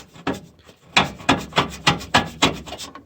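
Metal prying and scraping against the muffler shield of a Yamaha RMAX 1000 side-by-side, a series of rhythmic rasping strokes, about eight repeated scrapes, close and fairly loud with no talk.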